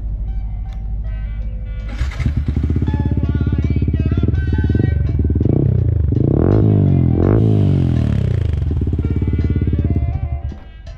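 A Yamaha MT 15 BS6 motorcycle idles with a steady low exhaust burble, then the engine is revved in several rising and falling throttle blips, loud and close, before settling back to idle.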